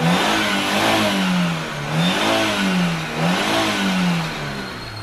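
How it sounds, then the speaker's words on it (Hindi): A 2009-10 used car engine on a second-hand lot revs repeatedly in smooth rising and falling waves, loud and close, with no voices over it. "अभी आपने इसके इंजन की आवाज सुनी"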